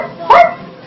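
A single short bark-like yelp made by a human voice imitating a dog at a clown puppet show, one quick burst with no other sound around it.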